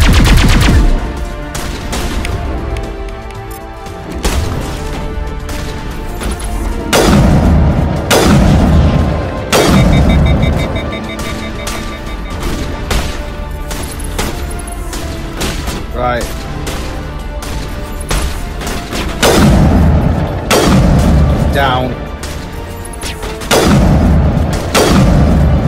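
Gunfire and explosions in the Mass Effect: Legendary Edition video game: loud bursts of automatic fire, sharp single shots and heavy booms come in clusters, with voices talking over the combat.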